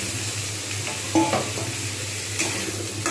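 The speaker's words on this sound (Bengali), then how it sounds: "এইবার আমি এর মধ্যে দিয়ে দেবো ধুয়ে রাখা ক্যাপসিকামগুলো" Potatoes and washed capsicum frying together in a pan, a constant close sizzle broken by a few scraping stirs of a spatula, without any voices.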